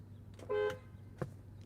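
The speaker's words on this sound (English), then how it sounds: "roll down the window, and we'll just do a little quick honk" Horn of a 2021 Bentley Flying Spur V8 First Edition, heard from inside the car with the window rolled down: one short, clear tonal honk over a low idle hum, followed by a brief thump.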